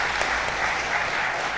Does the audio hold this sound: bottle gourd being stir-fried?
no